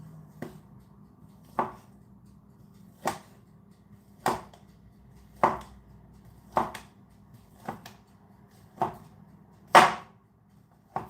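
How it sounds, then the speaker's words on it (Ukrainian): A knife chopping sausage on a board in a home kitchen, nine or ten sharp, separate knocks spaced about a second apart, close and clear over a faint background hum. "для початку нарізаємо ми ковбасу"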